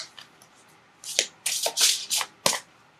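Tarot cards being shuffled for a reading, a series of crisp riffling bursts after a quiet start, close and clear with no talking.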